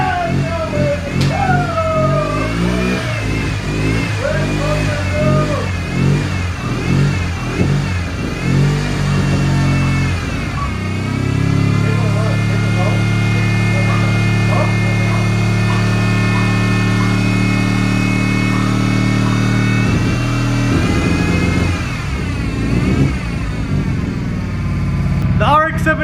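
A freshly revived Mazda RX7 rotary engine runs close by, pulsing through choppy blips and revs at first, then holding a steady, rough idle with occasional throttle changes for the whole stretch.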